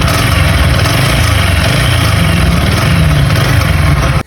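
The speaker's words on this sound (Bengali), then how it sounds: "এটার একটা মেজর প্রবলেম হলো সাইলেন্সারের নয়েজ করা" A TVS Apache 4V 160 motorcycle with a faulty silencer, running with a loud, steady, rough rasping engine drone close by, continuous and unbroken until it cuts off at the very end.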